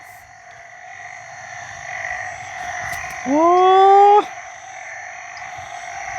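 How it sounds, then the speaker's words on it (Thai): A frog gives one loud, drawn-out croak with a slightly rising pitch, close by, lasting about a second against a quiet night background with a faint steady hum. "เสียงกบเสียงอึ่ง"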